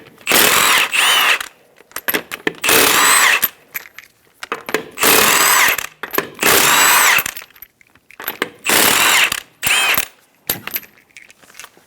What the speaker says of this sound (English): Using a 19mm socket, remove the 5 lug nuts.